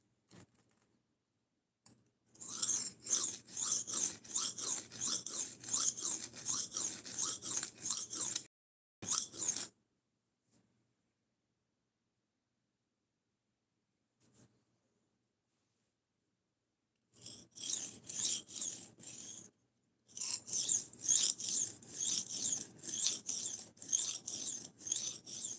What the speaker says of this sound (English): Yeah, you can definitely sharpen on a brick.